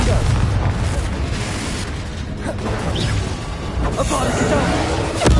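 In the Hogwarts Legacy video game, the Confringo explosive spell goes off as a series of booming blasts with crashing debris, loud and close, under a dense layer of battle noise and shouting.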